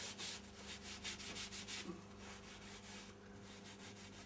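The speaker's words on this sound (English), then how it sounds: "I'm just going to run some wax all around the thing" Wax being rubbed by hand onto a wooden ukulele stand, a soft, close, rhythmic scrubbing with repeated back-and-forth strokes, faint and alone.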